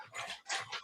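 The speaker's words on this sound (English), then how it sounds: "Now I got a dog in here." Dog whimpering indoors: a brief, close, high-pitched whine in two quick bursts.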